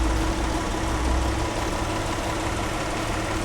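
A Kia All New Carnival gasoline nine-seater idling with the hood open, a steady low hum at close range with an even, unbroken drone throughout.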